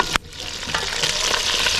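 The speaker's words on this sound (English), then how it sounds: "and we now mixing everything together." Sliced onions being stirred together with pounded garlic, onion and spring onion seasoning for Senegalese yassa, giving a steady close wet squelching and rustling with a brief sharp knock near the start.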